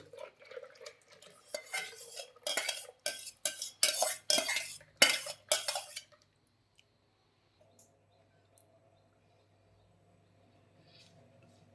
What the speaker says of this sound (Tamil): குக்கரில் நல்லா கலக்கி விட்டு